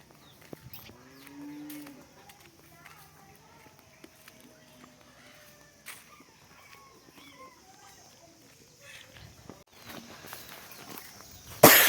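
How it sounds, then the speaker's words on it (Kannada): Cattle tied up at a farm give a drawn-out moo in the first couple of seconds, followed by quiet shuffling and faint footsteps, with a louder rustle near the end. "ಅಲ್ಲಿ ದನಗಳು ಕೆಳಗಡೆ ಕಟ್ಟಾಕವ್ರೆ."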